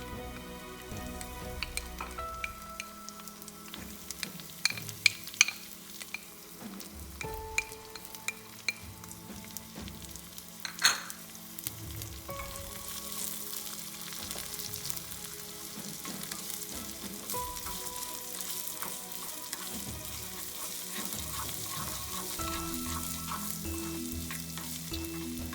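Onions for a red lentil and fenugreek curry fry in a pan with a steady, rain-like sizzle and occasional spatula clicks and scrapes, close and moderately quiet, no one speaking.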